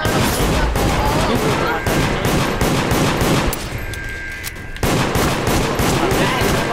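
Gunfire in the video game Deceit, dense rapid shots close and loud, with a short quieter gap with a sustained tone before the firing resumes, faint voices underneath.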